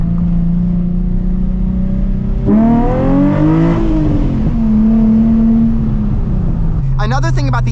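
A 2007 Nissan 350Z HR's engine is pushed hard, its tone climbing steeply as the revs rise before settling into a steady high drone, close and loud, with speech over parts of it.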